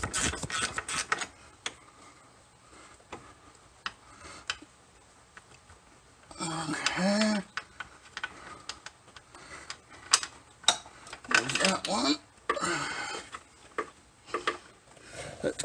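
A gear wrench ratcheting on a C4 Corvette during suspension lowering work, with rapid clicking bursts in short runs between pauses, close and fairly quiet, with brief spoken remarks in between.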